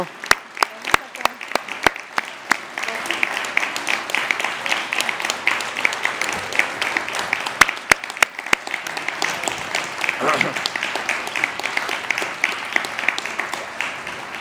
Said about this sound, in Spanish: quiero que les demos un aplauso de verdad por, el trabajo que han hecho